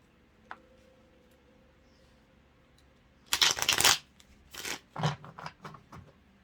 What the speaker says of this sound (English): So we're going to give it about 5 shuffles.